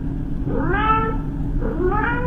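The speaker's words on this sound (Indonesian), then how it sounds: "Contohnya kalau kalian tahu ada kucing ngomong di malam hari pakai kamera CCTV" A cat meows in an AI-generated night-time CCTV video: two drawn-out, rising-then-falling meows, close and clear, over a steady low background hum.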